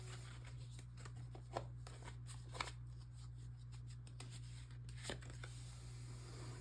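Tarot cards are shuffled quietly, with soft riffling and occasional crisp card snaps over a steady low hum in a quiet room.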